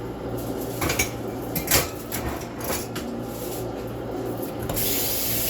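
A spoon stirs shrimp roll filling in a bowl at close range, with repeated scraping, clinks and soft knocks in an irregular rhythm, one sharper clatter near the middle.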